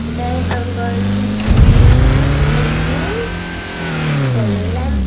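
A Lamborghini Huracan LP 640 engine revs hard, its throaty note swelling to a loud peak, sagging, then climbing and falling again in sweeping pitch changes with no talk over it.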